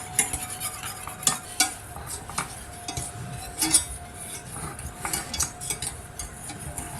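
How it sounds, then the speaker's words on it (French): Cream is stirred in a saucepan with quiet, repeated scraping and clinking strokes of a utensil against the pan. A faint simmer sits underneath the steady, irregular stirring rhythm, and no one speaks. "Alors il faut remuer parce que sinon ça accroche"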